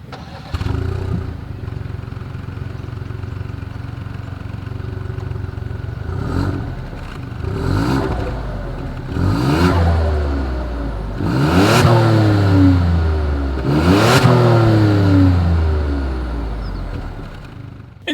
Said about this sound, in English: here is that 2020 Ford Escape exhaust clip